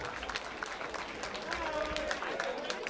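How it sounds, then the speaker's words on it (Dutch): Audience applause welcomes a carnival prince couple and a European carnival prince couple at a Kampenhout carnival gathering, steady clapping from a crowd mixed with murmuring voices and some talk underneath. "Uw applaus alstublieft."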